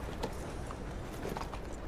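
Horse hooves clip-clopping in the Western video game Red Dead Redemption 2, a few soft irregular hoof falls over a dense steady background.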